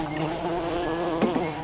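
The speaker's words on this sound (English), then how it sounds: "there's a little bee buzzing around" A small bee buzzes close by in a container garden, a steady droning hum that rises briefly near the end with a couple of louder passes.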